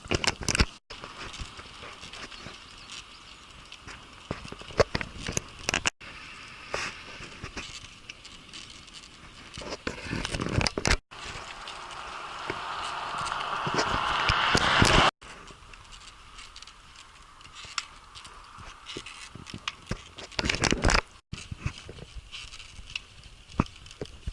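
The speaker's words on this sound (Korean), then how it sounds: "비가 또 오고 있습니다" Rain falls steadily during a long-distance bicycle ride across Canada on a Strida folding bike, a continuous close patter with irregular louder crackles and bumps, a hiss building in the middle, and no talking.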